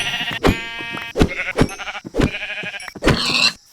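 Several sheep bleats in the Minecraft video game, loud and close, repeating in quick succession over about four seconds with no talking.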